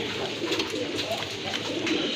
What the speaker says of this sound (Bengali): সম্পূর্ণ রানিং কবুতর, বিশাল সাইজের কবুতর মাশাল্লাহ